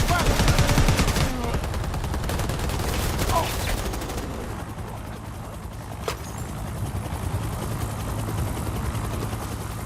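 Gunfire rattles in Predator Hunting Grounds, with dense rapid bursts up front that thin into scattered shots and a lone sharp crack. A low mechanical hum runs beneath.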